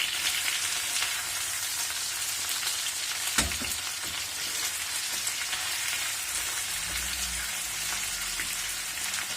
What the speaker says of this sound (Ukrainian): Не буду накривати, даю більший вогонь, щоб вона дійсно смажилась